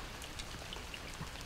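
Rain falling outdoors near a pond, a faint, even patter of scattered drops with no voices.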